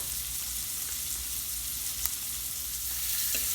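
Shrimp frying in a pan while being cooked for shrimp and grits, a steady close hiss of sizzling oil with one or two faint pops and no talking.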